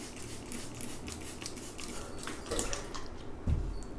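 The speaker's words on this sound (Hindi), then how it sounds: "तो आप देख सकते हो मैंने पानी दिया तो तुरंत पानी जो है वो नीचे से निकल गया" Water poured into a pot of cocopeat trickles and drips steadily as it drains out the bottom, quiet and close, with small splashes and a soft thump near the end.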